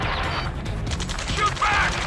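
Gunfire rattles in Ace Combat 7 during a rescue mission, dense loud shots mixed with crashes and mechanical clatter while voices talk over it.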